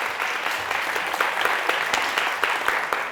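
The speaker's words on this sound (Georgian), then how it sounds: "დრო ამოიწურა და მარიამმა დააგროვა 10-2 პასუხი, აპლოდისმენტები მას" Applause for a contestant in the final of a Georgian student book quiz, a steady burst of clapping from a studio audience lasting throughout, fairly loud and even with sharper individual claps standing out.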